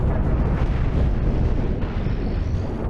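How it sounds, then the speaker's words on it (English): Missiles exploding against an enemy ship in the space combat game Cosmoteer, a dense, continuous roar of booming blasts and rumbling detonations, loud and close, with no talking over it. "My missiles blew the end of the ship off."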